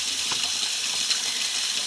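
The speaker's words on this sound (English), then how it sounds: "I shouldn't leave the water running." Tap water runs steadily into a kitchen sink during dishwashing, a constant close hiss and splash with faint clinks and no talking.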